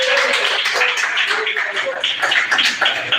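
A church congregation claps along in quick, fairly loud bursts, the clapping mixed with voices calling out.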